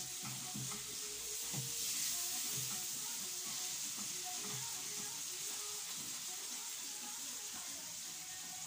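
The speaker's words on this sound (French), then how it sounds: "Je vais le laisser bouillir, cuire, que ça puisse cuire ses condiments" Salted fish sautéed with shrimp, condiments and spices simmers and sizzles in a pan, a steady close hiss with soft bubbling and occasional stirring clicks throughout.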